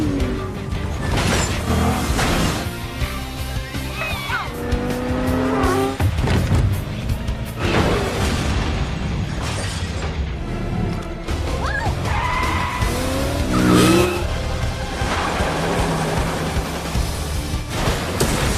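A film car chase with roaring engines, skidding tires and crashing impacts, loud and dense throughout, layered with dramatic score and brief effects.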